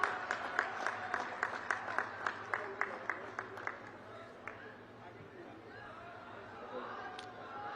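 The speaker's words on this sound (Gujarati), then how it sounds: "તાળીઓના ગડગડાટથી ફરીથી વધાવીશું." An audience at a public political rally in Himmatnagar breaks into rhythmic clapping that is loud and steady at first, then fades into crowd murmur and chatter.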